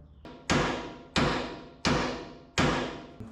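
Four evenly spaced, loud metallic hammer blows strike a suspension part on a 1967 Toyota Stout truck, each a sharp clang with a ringing decay before the next hit.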